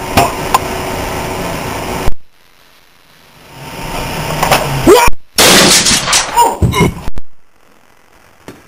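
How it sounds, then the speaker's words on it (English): Sharp bangs of a staged wild west gunfight. A loud crack is followed by near silence, then another burst of sharp shots and knocks, heard close and loud. "I reckon we're gonna have to have a gunfight."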